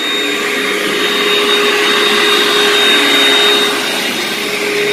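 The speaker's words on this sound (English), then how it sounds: "We take especially attention of vacuuming" A vacuum cleaner runs steadily and loudly on carpet before steam carpet cleaning, a continuous close motor whine with no talk.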